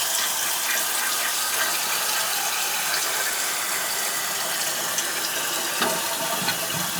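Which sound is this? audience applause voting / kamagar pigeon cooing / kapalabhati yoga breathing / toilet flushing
toilet flushing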